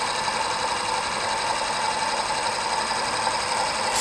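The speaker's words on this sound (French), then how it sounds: "et on met en marche notre moteur." An engine runs steadily at idle, a continuous close mechanical hum with a faint knocking texture, no voices.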